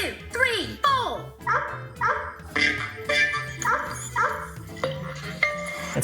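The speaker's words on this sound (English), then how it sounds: "let's replace it with a barking dog" Sampled barking dog sounds stand in for a kettle drum in a music video game, yapping in a rhythmic four-count pattern of short barks and whimpers with a steady beat beneath.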